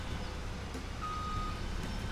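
A Mack semi truck in the farming video game Farming Simulator 2017 backs up, giving off a single faint, steady reversing beep over a low rumbling engine drone.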